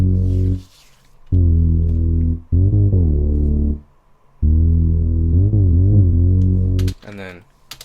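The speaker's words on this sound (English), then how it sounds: "It's actually a synth bass that I took from Logic Pro." A deep synth bass from a Logic Pro sampler, unequalized, plays sustained held notes in separated phrases with gliding pitch bends, loud and alone.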